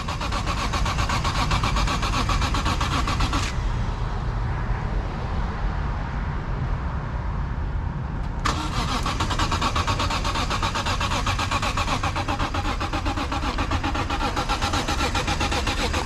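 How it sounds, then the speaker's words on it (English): A BMW E46 M3 engine runs loudly and close at a steady idle. The rough mechanical drone drops briefly in the middle and then returns. "Engine is running."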